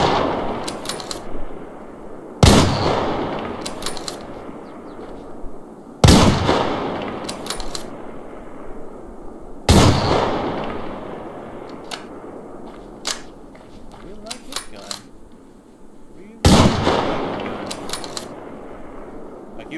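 Heavy, anti-tank-like rifle shots fired in the Survarium shooter game, five loud single booms spaced several seconds apart, each trailing a rolling echo, with faint clicks and handling noises between them.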